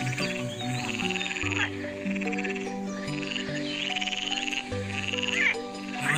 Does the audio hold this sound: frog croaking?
yes